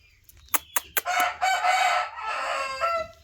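A white Korean rooster gives a few sharp clucks, then a long, loud, close crow in two drawn-out phases, heard alone without speech.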